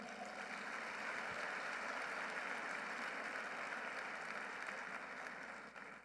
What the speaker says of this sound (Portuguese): Dá um aplauso ao Senhor.